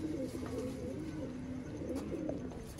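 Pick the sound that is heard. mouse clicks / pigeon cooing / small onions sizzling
pigeon cooing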